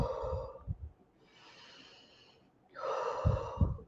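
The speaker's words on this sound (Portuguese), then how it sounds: "eu pratiquei uma respiração aqui alta" Loud, deliberate breathing demonstrated in a calm-the-anxiety exercise: a strong inhale, a quieter held stretch, then another forceful breath with nasal snorting bursts, all close to the microphone with no talking.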